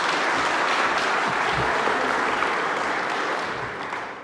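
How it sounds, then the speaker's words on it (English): A conference audience at a lightning-talk session of a Python web developers' event breaks into a full round of applause. The clapping is dense and continuous, then tapers off slightly at the end. "Round of applause and take it away."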